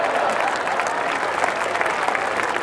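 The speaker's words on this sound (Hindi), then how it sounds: "आप जब समझ में आए ताली बजाओ," Audience clapping at a Hindi comedy poetry recital (hasya kavi sammelan), a steady dense wash of applause from a large crowd throughout, close and fairly loud with no break.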